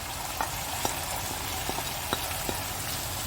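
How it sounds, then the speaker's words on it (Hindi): Fried taro and cardamom pods sizzling in hot oil in a pan, a dense, steady crackling hiss with a few sharp pops and spoon taps scattered through, close and continuous. "अब इसमें मैं इलायचियाँ जो मैंने आपको भी दिखाई और ये फ्राई शुदा अरबी डाल देती हूँ।"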